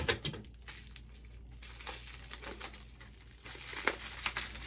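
Packing tape is pulled off the roll and wrapped around a shipping box, giving close, crackly tearing and crinkling sounds in uneven bursts over a low background hum, and no one talks.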